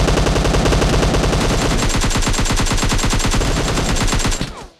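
Sustained automatic gunfire in PUBG Mobile, rapid dense bursts at close range that keep going loud for over four seconds, then cut off abruptly.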